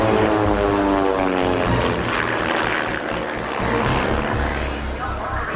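A propeller aerobatic airplane at an air show pulls up from a fast dive, its engine droning loud and close with a rising, wavering pitch that holds throughout.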